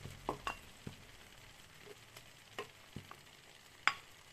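A turnip tagine fries quietly in a pan with a faint, soft sizzle, broken by occasional light clinks and taps of a utensil.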